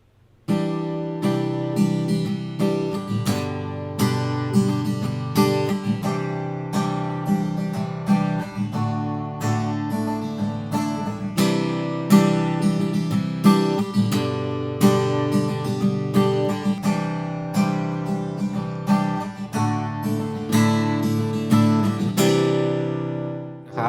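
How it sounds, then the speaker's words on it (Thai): Steady guitar playing through an EVO 4 audio interface, strummed chords and picked notes, continuous and fairly loud throughout, with a brief pause near the end. "จะลองเล่นกีตาร์ให้ดูนะครับ"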